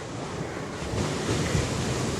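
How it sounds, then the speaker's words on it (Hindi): Sea surf on Colva Beach in Goa, a continuous broadband roar of waves washing onto the shore mixed with wind buffeting the microphone, loud and unbroken. "समुंदर की लहरें बार बार किनारे से टकराती हैं"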